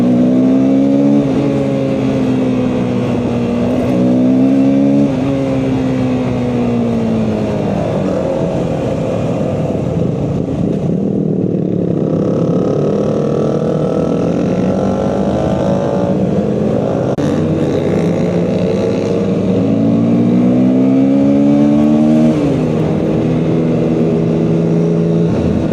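A Yamaha MT-09 motorcycle revs loudly and close during a group ride, its engine note climbing and falling through repeated throttle pulls over a sustained roar.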